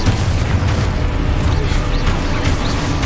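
Confringo fire-blast spell exploding in the Hogwarts Legacy video game, a loud, continuous low rumbling boom with crackling debris, dense and sustained for the whole stretch.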